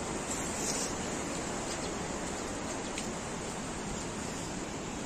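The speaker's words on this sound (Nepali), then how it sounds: "खोला मर्स्याङदी खोला सलल बगिया छ" The Marsyangdi river near Chame in Manang, Nepal, rushes in a steady, dense roar of flowing water, continuous and fairly close with no pauses and no talk.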